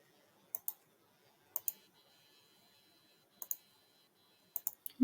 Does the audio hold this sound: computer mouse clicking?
yes